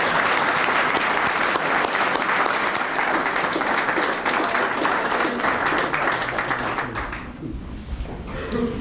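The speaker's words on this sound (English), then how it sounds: "I would suggest we stop for about 2 to 3 seconds and give them a round of applause," A large audience gives a sustained round of applause at a Canadian Forces reserve unit's centennial event, dense clapping filling the room before thinning out near the end.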